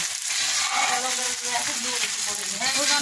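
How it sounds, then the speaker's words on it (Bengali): Vegetables tipped into frying spices in a large pot on a big stove, for khichuri cooked as a festival offering, make a steady loud sizzle with a voice talking over it. "এই যে এখন ভাজা মশলাটা ভাজা হয়ে গেছে, এখন সবজি দেওয়া হচ্ছে।"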